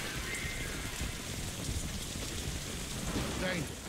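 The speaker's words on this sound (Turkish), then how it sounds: "Yağmurlu bir atmosferde." Steady rain in the video game Crysis 3 hisses across the whole stretch, a dense even wash of droplets with a faint low rumble beneath, loud and close.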